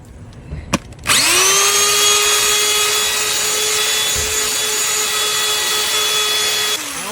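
A cordless drill spinning a detailing brush on car leather starts with a few handling clicks, then runs up to a loud, steady whine that holds close and alone until it eases slightly near the end.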